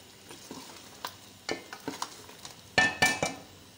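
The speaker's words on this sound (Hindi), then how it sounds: "अब हम इसको अच्छी तरह से मिक्स करेंगे" Mutton khichdi with chili and cumin stirred in a pot, soft scrapes and sizzles followed by a few louder metallic clinks of a spoon against the pot, close by and without talk.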